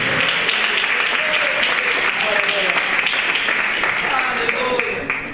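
Dense, sustained applause from a church congregation fills the room after a call to praise Jesus, loud and continuous, with voices shouting and talking through it before it begins to fade at the end.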